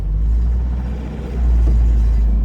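A 1997 car with a five-speed manual gearbox starts up, its engine rumbling loud and close, dipping briefly before settling into a steady, deep idle.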